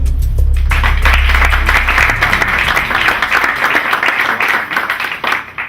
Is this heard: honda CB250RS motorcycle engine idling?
no